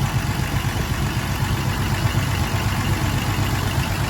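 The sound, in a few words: car engine idling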